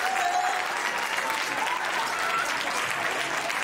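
Applause from a show audience at a university stage event, steady dense clapping throughout with a faint tone-like whistle early on and crowd murmur beneath.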